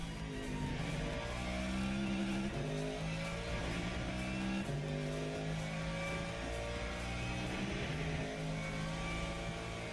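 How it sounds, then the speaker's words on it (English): Race car engine in a Le Mans Ultimate sim racing game, revving and downshifting repeatedly with stepped pitch drops, loud and continuous over ten seconds with no talk. "I love the downshifts in this car, they sound awesome."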